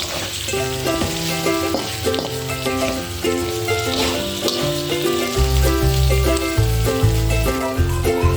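Chili powder hits hot oil with chicken for bhuna khichuri and fries with a continuous crackling sizzle, partly masked by prominent background music playing over it.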